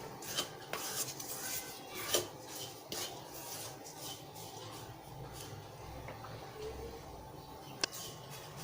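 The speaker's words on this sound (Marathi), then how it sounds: "हे पहा आता आपलं खोबरं भाजत आलेलं आहे" Grated coconut being roasted in a pan gives faint scraping and stirring with scattered light clinks of a utensil against metal, quiet throughout with no voices.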